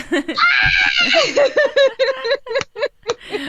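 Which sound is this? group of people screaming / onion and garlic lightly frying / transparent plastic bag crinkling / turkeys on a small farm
group of people screaming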